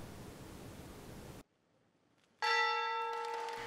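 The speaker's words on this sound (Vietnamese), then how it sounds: "Bộ trưởng Tài chính Nhật Bản Shunichi Suzuki đã rung chuông đánh dấu phiên giao dịch mới" A ceremonial bell opens the first trading day of 2023 at the Tokyo Stock Exchange, rung once after a short silence. The clear struck tone rings out and slowly decays.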